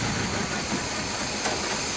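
Big block V8 in an abandoned 1966 Chevy Biscayne with a dead cylinder, revving as a dense hissing roar, steady and close with no talk.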